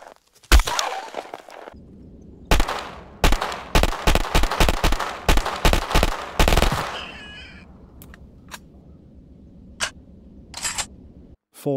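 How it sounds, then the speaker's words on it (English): A flat, identical video-game gunshot fires in bursts: a few single shots, then a rapid string, then sparse shots with a low hum between. "the gunfire, which uses the exact same single generic gunshot sound"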